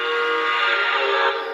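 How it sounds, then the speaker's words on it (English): Southern Pacific AC-12 cab forward steam locomotive sounding its standard freight whistle, a steady, loud, chime-like blast held throughout without a break and tapering slightly at the end. "And kind of the standard SP freight whistle."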